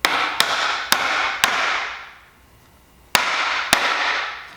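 Six sharp hammer blows on wooden pallet boards in two clusters, each ringing briefly, with a quiet gap in the middle; close and loud.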